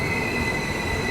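A train pulls into Sathya Sai Prasanthi Nilayam railway station, its wheels squealing in a loud, sustained high whine over a rumbling mechanical bed.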